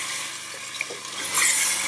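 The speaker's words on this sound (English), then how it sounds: "I think now it's the time to add water in it." Water is poured into a mushroom soup mixture in a pan, a soft hissing, sizzling wash with a brief clink, swelling louder near the end as the pour splashes in, with no voices.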